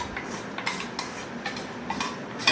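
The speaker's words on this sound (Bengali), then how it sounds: "এই যে তাহার বাবা পান্তা ভাত খাচ্ছে" Someone eating panta bhat, soaked rice with onion, chili and chickpea dal, from a dish at home, with repeated close clinks and scrapes of a utensil on the plate in an irregular rhythm and no speech.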